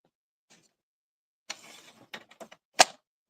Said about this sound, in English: We're using the scoring side of our trimmer